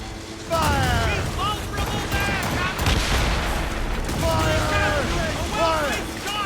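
Ship cannons firing in the Assassin's Creed Rogue video game: repeated heavy booming volleys over a loud, continuous battle din, with voices shouting through it.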